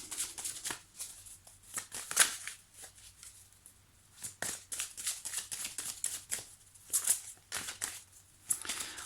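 Tarot cards riffled and shuffled by hand, bursts of quick papery flutters and soft slaps repeating irregularly, close up and moderately quiet, with no talking.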